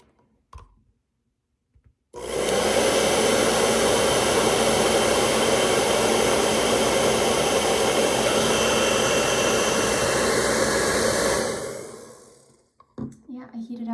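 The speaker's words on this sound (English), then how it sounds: "I will heat my LM35 with a regular blow dryer" A blow dryer roars steadily for about nine seconds heating an LM35 temperature sensor, a loud whooshing hum, then switches off, with faint clicks before and after.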